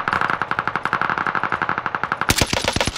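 Rapid automatic gunfire from Call of Duty: Modern Warfare (2019), a steady loud rattle of shots with echo, giving way near the end to a few heavier, sharper bursts.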